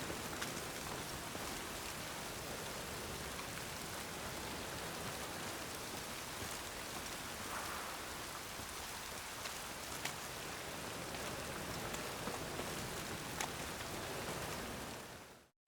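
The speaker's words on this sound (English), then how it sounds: "Rain again." Steady rain falling in The Witcher 3: Wild Hunt, a faint, even hiss of drops on surfaces continuing throughout with no voices.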